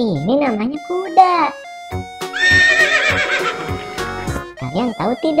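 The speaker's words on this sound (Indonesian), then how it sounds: "Itu ini namanya kuda." A horse neighs and whinnies in several rising-and-falling calls, with a short bell-like tone and a bright jingling passage between them, close and fairly loud with no talk.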